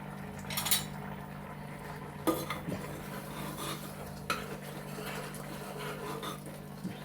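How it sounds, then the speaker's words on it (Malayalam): A metal pressure cooker, used to make avial, is opened and its contents stirred: a few sharp metallic clinks and scrapes over a low steady hum and faint bubbling, fairly quiet with no voices. "നമുക്കൊന്ന് ഈ കുക്കറിൻ്റെ മൂടി തുറന്ന് നോക്കാം."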